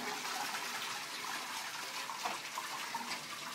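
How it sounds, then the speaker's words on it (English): A self-cleaning toilet at Frankfurt airport flushes with a steady, loud rush of gushing water that lasts throughout, with no voices. "I'm gonna flush the toilet."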